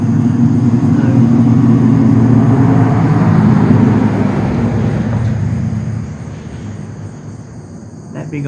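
A big truck rumbles past outside, a loud low drone that holds for several seconds and then gradually fades away, with faint insect chirps in the background.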